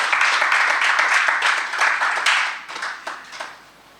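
Audience applauding after a university keynote, a round of dense clapping that is loud at first, then thins out and fades toward the end.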